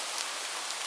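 Steady rain falls across the whole stretch as a dense, even hiss with no other sounds over it.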